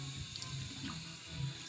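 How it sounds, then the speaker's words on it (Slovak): Water runs steadily from a tap into a sink, a soft continuous splashing stream at close range, fairly quiet, with no voices over it. "Tak to budeš čapovať vodu"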